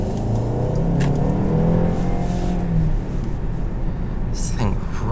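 A 2018 Audi A3 Premium compact car accelerating from inside the cabin, engine drone rising steadily in pitch, then dropping at a gear change near the midpoint before climbing again, loud and continuous.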